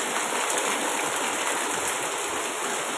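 Heavy rain pours down steadily around a house where water is pooling, a dense, continuous, loud wash of hiss with no breaks and no voices.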